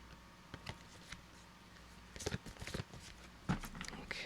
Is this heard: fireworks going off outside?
no